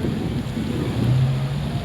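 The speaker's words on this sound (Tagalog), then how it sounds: "ang lakas kasi ng hangin eh" Steady wind roars and buffets the microphone in a low, continuous rumble, with no clear voices, near fountains at an entrance outdoors.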